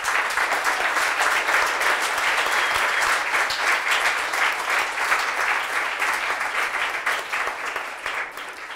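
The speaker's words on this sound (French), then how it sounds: "je crois qu'on peut les applaudir très fort." A closing session audience at a reading colloquium applauds loudly and steadily, dense sustained clapping filling the hall with no talk over it.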